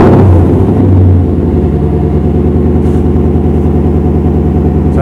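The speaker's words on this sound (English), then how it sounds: "So nice little cold start after installing the brand new aftermarket steering wheel." A Lexus LC500 engine cold-starts with a brief loud rev flare, then settles into a steady, fast, throbbing idle close by.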